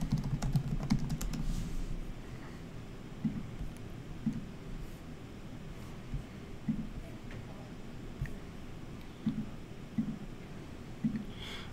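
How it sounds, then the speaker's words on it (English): Typing on a computer keyboard while logging in with an email address and password, a quiet, continuous patter of keystrokes with occasional louder clicks under low background noise. "To log in, you need to type your full email address and your email password."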